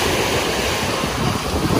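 Continuous roar of ocean surf washing onto a Miami beach in Florida, loud and close with wind buffeting the microphone and no voices.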